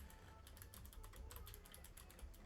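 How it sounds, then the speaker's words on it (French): Rapid clicking of keys on a computer keyboard as someone types awkwardly around a microphone placed in front of it, close and steady over low background rumble. "je galère toujours autant à taper avec le micro devant mon clavier"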